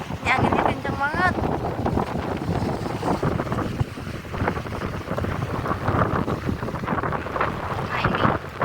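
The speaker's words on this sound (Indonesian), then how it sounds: "Ini anginnya kenceng banget." Strong wind buffets the microphone at a beach in Sawarna during rain, a loud continuous roar with gusts, and a voice talks over it.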